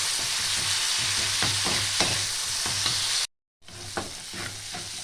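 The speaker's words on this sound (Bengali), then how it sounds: "এটা ভালো করে ভেজে নিতে হবে" Eggplant mash and tomato fry in a pan with a continuous close sizzle and repeated stirring scrapes. The sound drops out briefly for a moment before the frying resumes.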